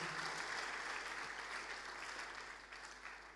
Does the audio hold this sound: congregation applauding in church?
yes